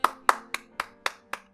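Six sharp hand claps in an even, steady rhythm, close and isolated, each a crisp snap with a short decay.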